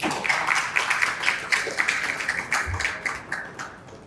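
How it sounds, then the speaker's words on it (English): Applause at a HackerTalks tech talk welcoming a speaker on global scalability, a light, fairly sparse patter of clapping from a small audience that gradually thins out. "Please give a round of applause."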